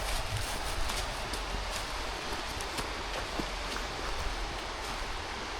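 Steady broadband rush of the Little Egypt waterfall in Tennessee, a continuous hiss of falling water filling the scene at constant level with no talk.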